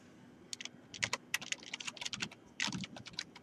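Quick, irregular clatter of keys on a computer keyboard as a file name is typed in Photoshop, close and fairly quiet with short pauses between bursts.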